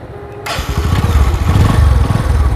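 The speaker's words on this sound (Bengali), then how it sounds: "প্রথমে বাইক স্টার্ট করতে হবে" A motorcycle engine starts after a brief quiet moment and then settles into a loud, close, rapidly pulsing idle that carries on to the end with no talking.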